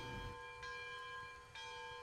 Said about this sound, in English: We got a rope for the bell.